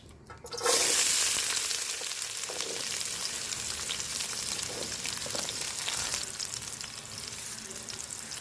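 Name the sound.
onions frying in pan for village-style egg curry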